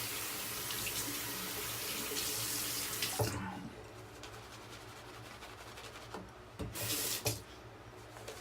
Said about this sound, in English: Oh, let me rinse my hands.